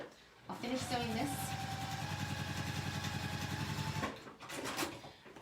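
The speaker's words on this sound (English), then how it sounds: "I'll finish sewing this" A sewing machine runs steadily through a seam for about three and a half seconds, a fast even mechanical chatter that starts and stops abruptly, close and fairly loud, with a voice heard around it.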